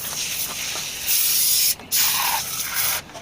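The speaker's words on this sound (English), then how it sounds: "let's hose this thing down" Power washer spraying down a 1979 Chrysler 300, a close, loud continuous hiss that cuts out briefly twice before resuming, no talk.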